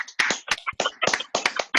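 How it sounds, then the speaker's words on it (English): Scattered clapping from presenters' audience on a video call, compressed and uneven through microphones, with irregular bursts filling the short stretch and no talking. "Now let's give our presenters a round of applause."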